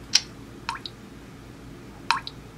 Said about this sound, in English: Dripping faucet.